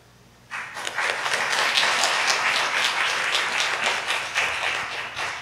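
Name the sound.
applause for newly appointed evangelists in church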